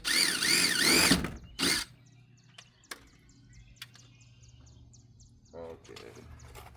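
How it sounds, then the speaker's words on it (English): A power drill whines loudly into the metal of a new trailer for about a second, then gives a second short burst, followed by quiet clicks, rustling and a brief voice. "let's drill a hole in the new trailer"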